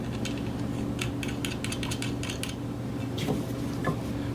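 Wrenches clink and click against metal while double nuts are tightened on a Vent-Tech SWG-B, a run of light, quick taps and ratcheting ticks over a steady low hum, close by.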